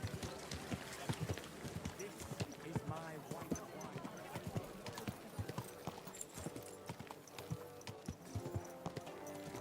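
Galloping horse hooves in Kingdom Come Deliverance 2 drum a fast, steady clip-clop close by throughout, with a rider speaking over the running beat.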